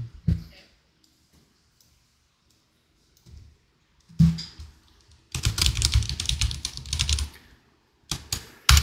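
Typing on a computer keyboard in a classroom lesson setting, with a quiet stretch followed by bursts of rapid, fairly close key clicks and clatter, including a sustained run of dense typing near the end.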